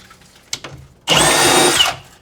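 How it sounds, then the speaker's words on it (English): A Milwaukee power drill bores into wood during a bathroom remodel, with a few faint knocks first and then one loud, close, steady burst of under a second. "These Milwaukee drills are just Insane."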